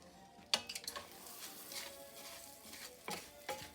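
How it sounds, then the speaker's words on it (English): White jasmine rice stirred in melted butter in a pan: a sharp metal clink, then scraping strokes over a soft sizzle, with a second burst of scraping near the end. "2 cups white jasmine rice. And we're gonna give it a stir."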